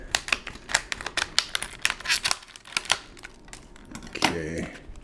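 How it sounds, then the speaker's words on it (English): Scissors cut open a plastic sleeve holding RAM for an Intel NUC NUC5i7RYH, a quick run of sharp close snips and crinkles, with a voice speaking briefly near the end. "I'm just going to cut it."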